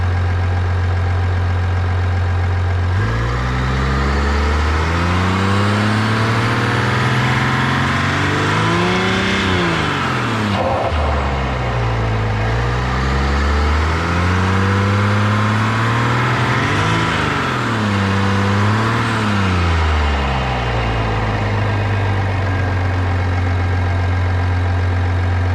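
Engine of a 2021 Chevy Duramax 1500 3.0 diesel fitted with an S&B cold air intake, idling steadily then revving up and down in several swells, close and loud without speech.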